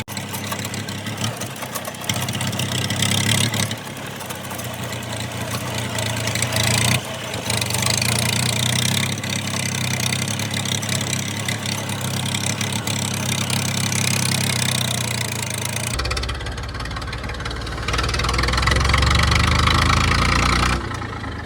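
A tractor engine chugs steadily as it drives along, a loud, continuous low rumble with brief dips and a shift in tone near the end, heard close with no one talking.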